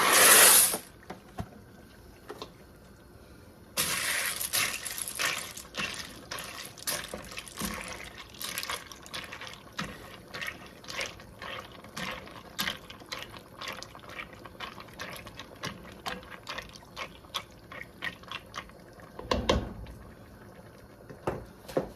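Penne pasta is poured into a pot of boiling water. A brief loud rattle of dry pasta comes first, followed by close, bubbling, irregular popping of the boil that continues throughout.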